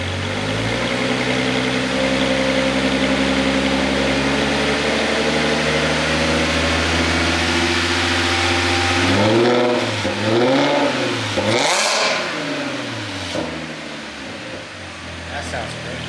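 An Audi S4 B8.5 with an ECS Tuning valved exhaust, valves open, drones at a loud steady idle and then revs up and down in several surging pulls, close by, while people talk over it.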